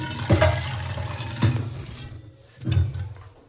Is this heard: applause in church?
no